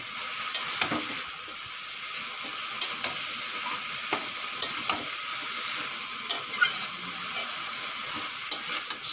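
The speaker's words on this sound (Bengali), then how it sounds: "শাকগুলো দেওয়ার পরে একটুক্ষণ ভেজে নেব।" Pipli greens being stir-fried with fried raw banana in a vegetarian dish: a steady close sizzle broken by frequent sharp scrapes and clicks of the spatula stirring the pan, with no talking.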